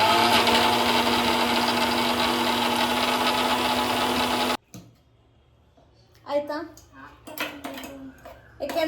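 A mixer grinder grinds a small quantity of chickpea paste, a loud steady whirring roar that cuts off abruptly halfway, followed by a child and an adult talking.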